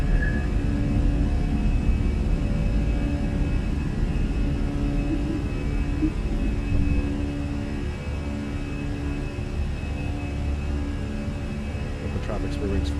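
A Fenix A320 airliner takes off in Microsoft Flight Simulator, with a steady, loud engine roar and low rumble holding throughout. Talk runs over the engine noise.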